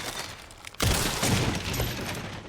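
Gunfire in the Resident Evil Requiem video game: after a quieter moment, a sharp burst of shots erupts and continues as a dense, loud volley aimed at targets.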